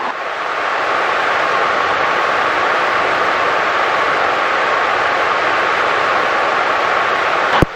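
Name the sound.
helicopter hovering near runway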